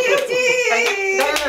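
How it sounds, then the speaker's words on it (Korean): A few sharp hand claps ring out at separate moments, mixed with a continuous voice that sings or calls over them. "박수"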